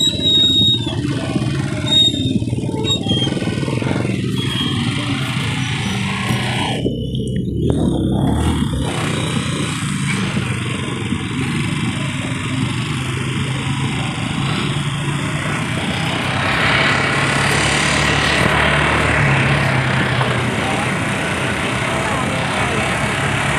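Motorcycle engine with a replaced regulator roars steadily and loudly throughout, revving with a brief dip midway, heard up close with wind rush.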